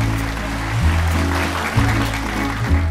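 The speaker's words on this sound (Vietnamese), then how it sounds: "Vỗ tay chúc mừng cho hạnh phúc giữa Pha và Hảo" A studio audience at a Vietnamese dating show claps steadily in loud, sustained applause. A low musical drone runs beneath it, and no voices stand out.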